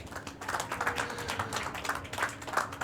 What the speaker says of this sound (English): Let's give our final 9 players a round of applause.